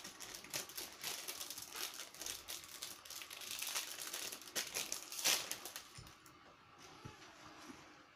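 Crinkling and crumpling of a plastic packet being opened to reach a LEGO minifigure, a busy run of close, crisp rustles and crackles that eases off toward the end.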